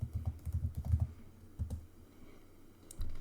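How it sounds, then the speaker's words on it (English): Quiet typing on a computer keyboard, with short bursts of soft key clicks in an irregular rhythm and a brief pause before a final few taps. "Let me type this."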